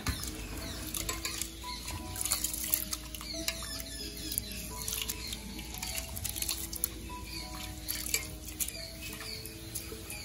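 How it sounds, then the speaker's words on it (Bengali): Rice for khichuri is washed by hand in water in a kitchen, with continuous close patter, swishing and light clinks of grains and vessel through the whole stretch. "মামনি এখানে এখন খিচুড়ির চাল ধুচ্ছে"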